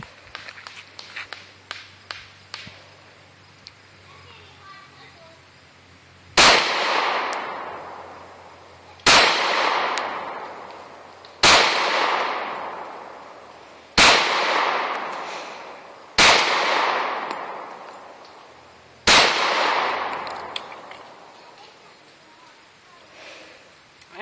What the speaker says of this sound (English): We'll show you a couple magazines going down the pipe here now.